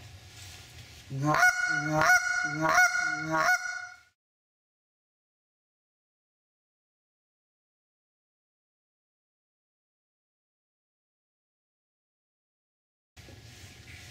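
A hand-blown goose call gives three loud, close honks in quick succession, each breaking from a low note up to a sharp high note, followed by a long stretch of silence.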